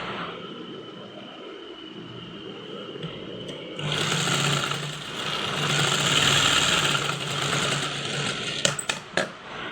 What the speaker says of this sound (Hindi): दोनों कंधे को पकड़ के सिलाई कर लूँगी